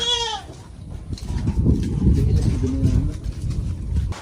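A goat bleats briefly at the start, then low rumbling noise and faint voices follow, with another short bleat-like cry midway; goats sheltering with people during a village flood and sudden rain.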